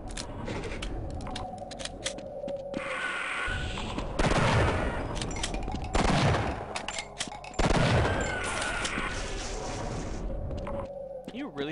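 Shotgun blasts in the video game Half-Life: three loud, booming shots spaced about two seconds apart, each with a sharp attack and a short decaying tail, over a background of game ambience.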